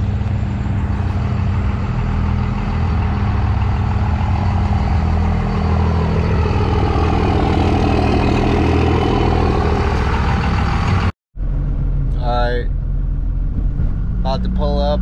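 A 2021 Chevrolet Camaro LT1 with RS package drives with a steady, loud engine drone and road rumble heard from inside the car, the sound cutting off abruptly near the end before brief faint noises follow.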